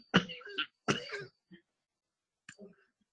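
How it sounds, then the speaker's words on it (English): Several coughs and throat-clearing bursts from one nearby person, two strong ones close together at the start and fainter ones trailing after, with quiet gaps between them. "Sorry for the coughing, it just goes with the turf."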